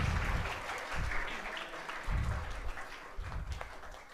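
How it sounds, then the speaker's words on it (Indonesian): A gathering at an Islamic religious talk on New Year's Eve claps in response to the preacher, a steady crowd patter with a few low thumps, moderately distant. "Tepuk tangan dong."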